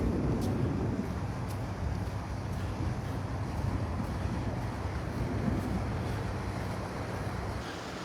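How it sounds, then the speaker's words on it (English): Breezy wind sweeps across the beach at Delnor-Wiggins park, a constant low rumble and buffet on the microphone as someone walks into it, with no talking. "Breezy. I'm walking right into that wind."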